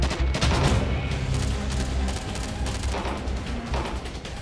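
Rapid gunfire crackles along the Jammu and Kashmir border with Pakistan, with dense bursts of sharp shots repeating over a rumbling background throughout.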